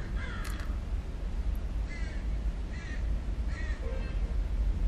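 Crows caw repeatedly in a scattered, continuous chorus, harsh calls coming every second or so over steady low background noise outdoors.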